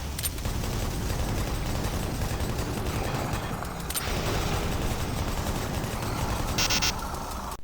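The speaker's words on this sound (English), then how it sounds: "I also adore the sounds that all of the weapons make." DOOM 3 weapons fire in dense, continuous bursts, a loud rattling fusillade with crunchy blasts and a brief mechanical clack near the end, no voices over it.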